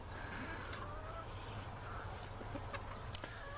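Backyard chickens give soft, scattered clucks at a distance, faint over a low steady background hum with a little talk nearby.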